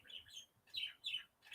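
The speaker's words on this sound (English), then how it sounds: "The bird actually has a blanket over the cage, and still he's just singing away." A pet bird sings from inside a cage draped with a blanket, its bright chirps and tweets coming in several short bursts with brief pauses between them, fairly close and alone with no voices.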